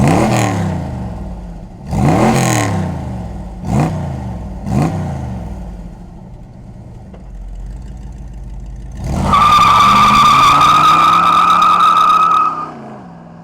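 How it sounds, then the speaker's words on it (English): A 1970 Plymouth AAR 'Cuda V8 muscle car cranks in several loud starter bursts, catches, then settles into a lumpy idle before a sharp, roaring rev that holds and drops back, close and alone. "let's fire up this V8 and hear that muscle car sound"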